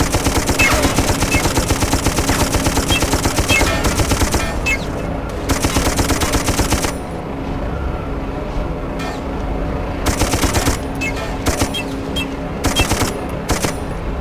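Rapid automatic gunfire rattles on and off in the shooter game Darkest of Days, with loud sustained machine-gun bursts separated by brief lulls, all close and heavy.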